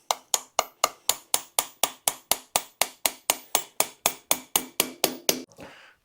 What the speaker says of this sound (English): I'm just gonna give it a little tap.